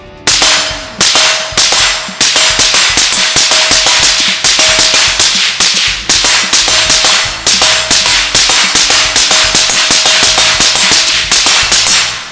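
Rapid rifle shots from a Rifle Dynamics rifle ring out one after another in a long, loud, nearly continuous string of sharp cracks, with faint metallic rings from steel targets between them and no talking.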